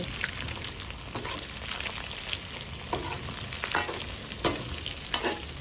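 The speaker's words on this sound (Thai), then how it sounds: "เราจะทำหัวกุ้งทอดกรอบนะคะท่านผู้ชมแต่ไฟของเรามันไม่ค่อยแรง" Battered shrimp heads deep-frying in oil over a low flame, a steady soft sizzle with occasional louder pops and crackles, heard alone with no talking.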